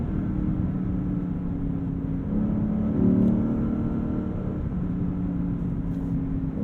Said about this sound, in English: Oh, the sound of that engine.